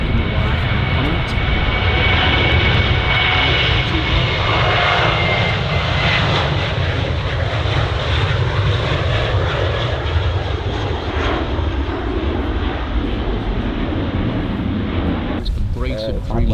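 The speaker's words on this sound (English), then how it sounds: "Brace of Dreamliners taxiing down to" Jet engines of Boeing Dreamliners taxiing at Manchester Airport give a loud, continuous roar and rumble that holds steady throughout, with faint voices mixed in near the end.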